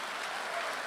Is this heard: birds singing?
no